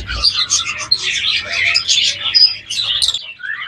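A breeding pair of albino red-eye aviary birds, likely budgies, chirp and chatter in a busy run of bright tweets, close and fairly loud over a low background rumble.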